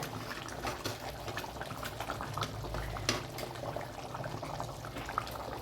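Drumstick kara kuzhambu curry simmers in a pot with a soft, steady bubbling and occasional louder pops, heard close and alone.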